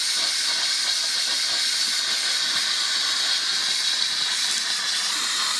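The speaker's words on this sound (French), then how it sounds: "Vraiment la vapeur qui va plutôt sur les côtés, au lieu de faire un jet vers le haut." Steam venting sideways from the lid of a Cecotec GM H Deluxe Fry multicooker with air fryer lid: a steady, continuous hiss, close and even in level, with no talking.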